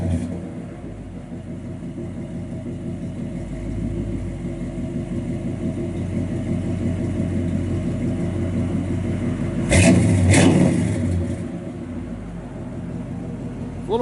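1957 Chevrolet Bel Air two-door post idling through its exhaust with stainless tips on a cold day, a low steady rumble with a brief rev swelling near the end before settling back to idle.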